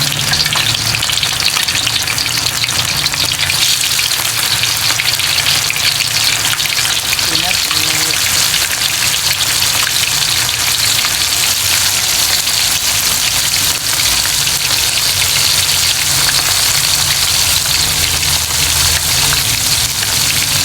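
Coated chicken wings deep-fry in hot oil for honey garlic wings, a loud, dense, continuous crackling sizzle that stays close and steady throughout.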